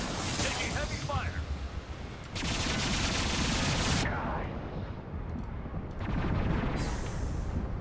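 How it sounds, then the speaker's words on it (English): Heavy sustained gunfire in Mass Effect 2 during a Thresher Maw fight, dense rattling bursts filling the whole stretch with brief shifts in intensity, loud and close throughout. "Taking heavy fire."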